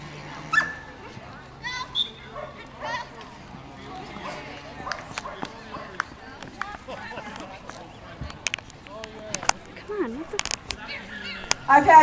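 A tri-colour 16-inch Shetland sheepdog on a purple leash whimpers and gives short yips and barks, nearby and moderately loud, mixed with people talking throughout.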